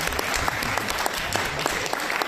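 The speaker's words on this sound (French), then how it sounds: "Je vous demande d'applaudir encore." Audience applause at a youth peace event, a dense, loud wash of many hands clapping continuously with rhythmic accents and no talk on top.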